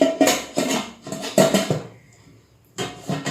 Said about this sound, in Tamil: மூடி மட்டும் மூடுறேன்.